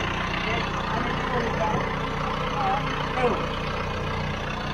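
Bulldozer diesel engine idling nearby while pushing tree debris, a steady low rumble that runs unbroken throughout with faint background voices.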